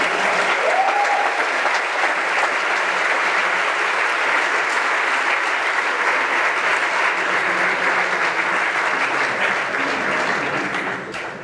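An audience at the Gamelab Barcelona 2012 awards gala applauds loudly and steadily for about eleven seconds, a dense wash of clapping that tapers slightly at the end.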